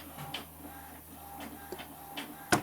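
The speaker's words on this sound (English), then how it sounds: "I have the printer going on in the background" A home printer feeds and prints a page, giving a soft repeating mechanical whir and clack in a steady rhythm with a low hum beneath, ending in a sharp louder clunk.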